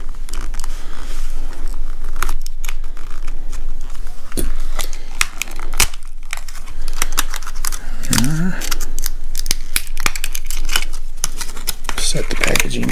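Plastic blister packaging around a Mission First Tactical TBLW weapon light being pried and torn open, with loud close crinkling, snapping and clicking crackles throughout while a person talks.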